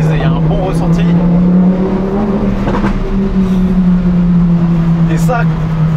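A Lamborghini Huracan STO's V10 engine hums steadily and loudly from inside the car as it drives, its tone shifting slightly, with someone talking over it in French.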